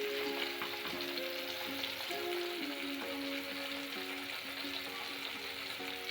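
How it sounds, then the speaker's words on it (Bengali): Bay leaf with ground coriander and cumin sizzles steadily in hot oil for a Bengali vegetarian mustard pointed-gourd dish, a continuous close frying hiss with faint tonal scraping and no voices. "মশলাগুলো একটু কষিয়ে নেব।"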